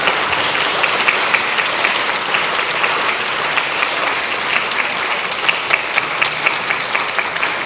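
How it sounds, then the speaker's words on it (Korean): A National Assembly chamber fills with steady, dense applause for bereaved families of the Osong disaster: many hands clapping together at an even level throughout, with no pause. "여러분 그동안 수고하셨다고 격려의 박수 한번 부탁드립니다."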